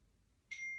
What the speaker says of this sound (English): I feel like my phone's going to keep going off